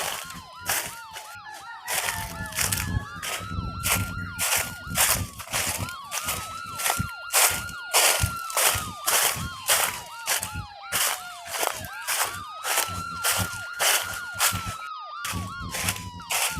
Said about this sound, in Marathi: पोलिसाच्या गाडीचा आवाज